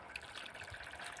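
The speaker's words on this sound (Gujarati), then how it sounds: "ઉપર આગળ આપણે પાણી નાખીએ એમાં." Water is poured onto oilcake soaking in a container as cattle feed, making a faint, short trickling splash.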